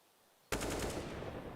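Gunfire in the Counter-Strike video game bursts in suddenly after a quiet moment and continues as a loud, dense rapid-fire volley of shots.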